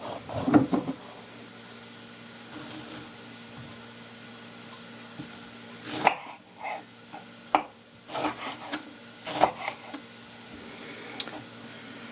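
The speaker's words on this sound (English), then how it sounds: "I'm listening to the Goya sizzling in the pot right now." Soft, steady sizzling of bitter melon frying in a pot, with occasional clinks and stirring knocks rising above the hiss.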